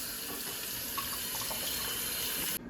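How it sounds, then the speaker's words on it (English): Green bananas washed under a running kitchen tap, a steady close hiss of flowing water that cuts off abruptly near the end. "After that, I wash them."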